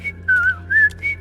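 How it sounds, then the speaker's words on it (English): A character in The Wolf Among Us video game whistles a short, wandering tune in three or four clear phrases, close and alone with no talk over it. "Whistling, too."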